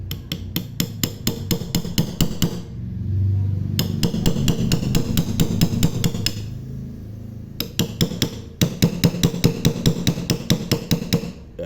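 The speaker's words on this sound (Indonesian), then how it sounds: "Ini obeng kita tajamkan ujungnya, kemudian kita tokok" A hammer taps a sharpened screwdriver tip during a car battery cell repair, striking in close, sharp metallic blows that come in quick rhythmic bursts separated by short pauses.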